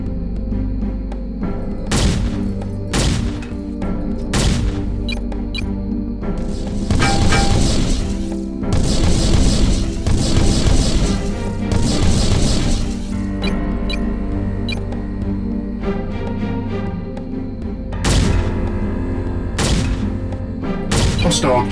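Enemy gear machines being destroyed in the Heavy Gear mech combat game, with loud repeated booming blasts and crashes over a constant engine drone and game effects, plus a spoken game voice.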